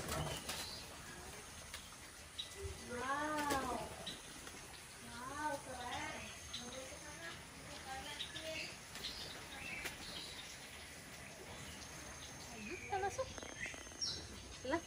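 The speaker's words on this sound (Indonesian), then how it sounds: "Ini gelatik Jawa nih." Java sparrows call in short, rising chirps and trills, some close and some farther off, in a small scattered run, with a faint steady background hum and quiet human talk.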